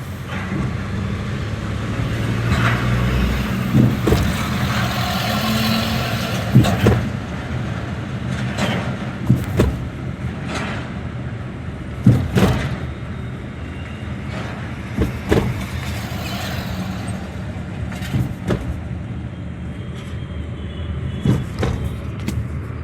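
A car drives along a road with a continuous engine and road hum, broken by several sharp knocks and bumps spaced irregularly, the interior sound steady and fairly close.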